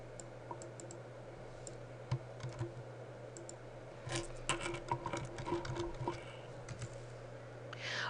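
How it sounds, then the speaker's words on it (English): A report is typed on a computer keyboard, with quiet, close key clicks in irregular bursts over a low steady hum, busier in the second half, with no talking. "I'm at the beginning of a paragraph, continue to type."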